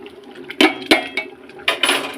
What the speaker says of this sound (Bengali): দিয়ে একটু নেড়ে দেবো।